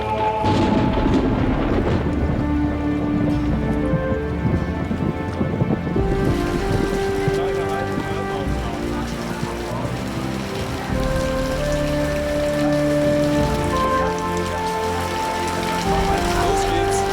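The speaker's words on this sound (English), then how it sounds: "Where jungle is luxuriant, it does rain every now and then." Rain falling on a luxuriant tropical island jungle, a steady loud patter with dense drip texture and occasional low rumbles, no voices.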